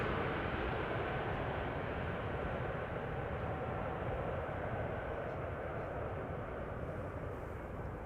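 An Air France airliner departing Amsterdam Schiphol, a steady broadband jet roar held at an even distance with no other sounds over it.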